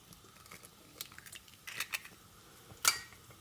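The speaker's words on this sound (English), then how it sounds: "start to crack the eggs" Large eggs crack against a bowl and shells click faintly in a home kitchen, a handful of quiet scattered taps building to one sharper crack near the end, with no speech.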